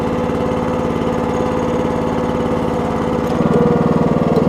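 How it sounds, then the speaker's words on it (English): A Red Rock Trencherman mini towable backhoe's small engine idles steadily up close, a continuous throbbing drone that grows slightly louder and rougher near the end, with no talking. "I've only got the engine idling right now. I'm not revving it up at all. Engine's only idling."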